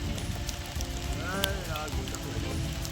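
Steady rain patters down over a mango garden, a dense, even hiss of drops filling the whole stretch, with a voice speaking briefly over it midway.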